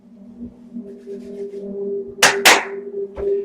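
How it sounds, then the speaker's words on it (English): Two sharp hand claps in quick succession, close and loud, cutting through a quiet room with a low hum. "as you clap your hands twice, time freezes"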